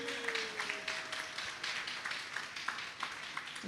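Light, scattered applause from a Divali celebration audience, soft and somewhat distant, with irregular claps patting along throughout, under a faint tonal hum.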